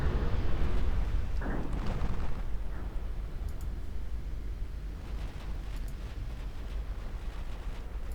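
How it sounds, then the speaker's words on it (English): Heavy cruiser main guns firing 16-inch shells in the naval warfare game Ultimate Admiral Dreadnoughts, a deep booming salvo up front that rolls into a sustained low rumble of distant gunfire and sea ambience with no talking. "My heavy cruisers just starting to fire."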